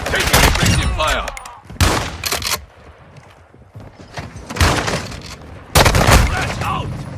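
Gunfire bursts ring out in Call of Duty Modern Warfare 2, loud sharp volleys clustered at the start and end with quieter gaps between, under game effects.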